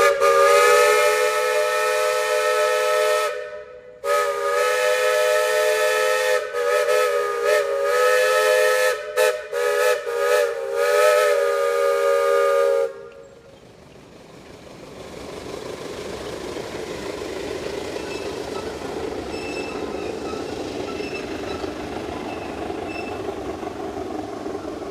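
A loud whistle from a replica Climax Class A steam logging locomotive blows in long chord-like blasts with brief breaks, then gives way to the steady hiss and chuff of the engine running.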